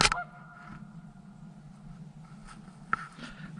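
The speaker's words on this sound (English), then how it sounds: "That duck's been going crazy for a while." Duck calling outdoors in a state forest, a few loud honking quacks at the start with another sharp call near the end, otherwise faint background.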